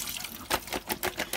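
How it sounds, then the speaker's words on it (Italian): Quick rinse of zucchini rings under running water while making cold pasta, heard as faint, brief splashing bursts in close succession. "Ci diamo una sciacquata rapida"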